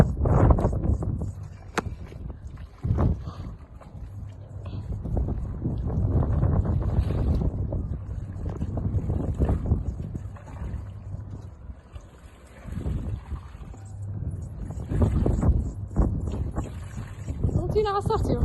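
Gusty outdoor wind buffets the microphone in hot weather, a rumbling, uneven roar that swells and dips throughout with brief quieter lulls. A voice speaks at times over it.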